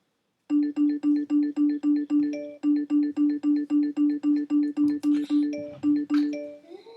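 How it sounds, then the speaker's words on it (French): A mobile phone sounds a rapid, repeating electronic ring or alert tone, loud and close, in a steady stream of evenly spaced beeps that keeps going with brief gaps, later mixed with a few clattering noises. "ton téléphone, il fait que de sonner"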